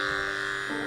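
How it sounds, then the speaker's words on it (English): A failing Dremel rotary tool runs in a brief burst, giving a steady buzzing electric whine with a slight wobble in pitch near the end. "My Dremel has been dying for 5 years,"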